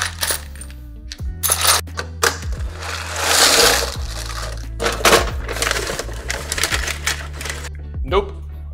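Small metal M4 screws clatter and jingle as a hand rummages through them during a DIY case fan testing machine build, close and busy with sharp irregular clinks, alongside brief voice-like sounds.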